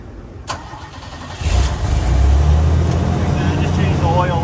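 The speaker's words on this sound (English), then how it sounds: "I just changed the oil in it, so it idles up, ramps up" 1993 Chevrolet S10 pickup with a 2.8L engine and five-speed, a click and brief starter crank, then the engine catches and settles into a steady, close, low idle that ramps up slightly.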